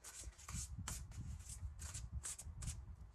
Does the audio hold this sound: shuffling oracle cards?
yes